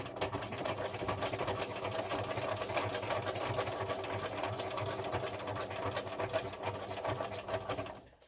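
A sewing machine runs steadily up close, its rapid mechanical stitching rattle continuing for several seconds before stopping at the end.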